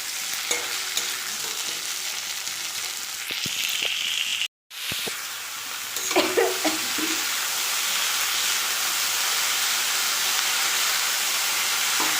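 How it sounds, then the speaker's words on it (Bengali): Potatoes and banana flower being sautéed in a pan, a continuous loud sizzle and hiss with occasional stirring scrapes, close by, with a brief break partway through. "আলু দিয়ে মোচা দিয়ে এখন কষাচ্ছি"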